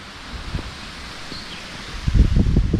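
Gusty wind buffets the microphone with low rumbling thumps, growing stronger toward the end, with faint rustling underneath.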